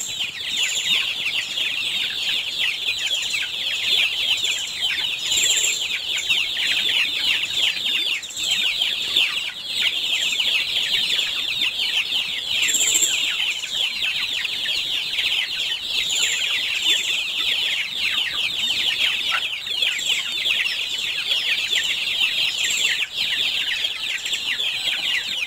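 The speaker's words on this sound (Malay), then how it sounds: "Terdapat beberapa ekor ayam yang diternak di belakang surau ni dalam sebuah reban." Chickens cluck steadily and densely in a coop behind a village prayer house in Kedah, Malaysia, a busy flock close by with no voices.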